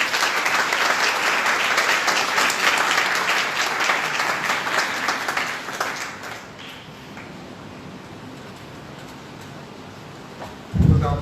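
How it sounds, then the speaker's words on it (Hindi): Church congregation applauding at a Sunday service, a steady loud wash of clapping that fades out after about six seconds, leaving a quiet room with a brief thump near the end. "तालियां करें।"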